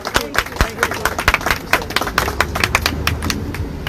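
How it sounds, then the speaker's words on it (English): Applause breaks out from an audience after a speech at a Houston rally, with crisp, dense clapping of a moderate crowd and voices mixed in. "Please, another round of applause for Mr. Cornell X."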